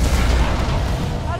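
Gunfire and heavy booms aimed at the players in the Harry Potter and the Deathly Hallows Part 1 video game roll on as a loud, continuous rumble through the whole moment, with no single clear shot standing out.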